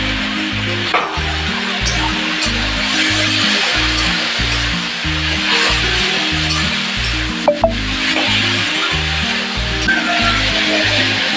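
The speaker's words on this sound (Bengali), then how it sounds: "আদাটাকে একটু ভেজে নেব" Ginger paste and cumin powder sizzle steadily in hot oil with eggplant and potato, a loud, continuous frying hiss close by, broken by a few sharp clinks of stirring.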